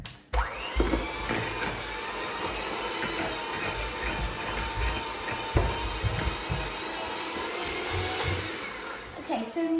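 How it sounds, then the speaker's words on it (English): Electric mixer beating a giant tray bake cookie dough, a loud continuous motor whir starting abruptly after a brief pause and running steadily throughout, close up with occasional knocks against the bowl. "so now I'm going to mix it."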